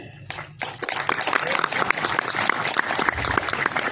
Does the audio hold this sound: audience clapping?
yes